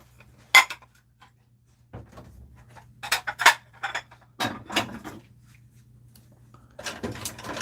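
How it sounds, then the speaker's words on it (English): Dishes, cutlery and pots being unloaded from a home dishwasher, with a series of close clinks and clatters in irregular bursts and pauses, plus a steady low appliance hum underneath. "Let me unload my dishwasher right now."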